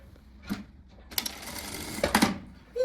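A sewing machine runs a short line of stitching to tack a blouse's back facing along the shoulder edge, a steady mechanical whir with brief ticks and pauses, close and fairly quiet, without talk.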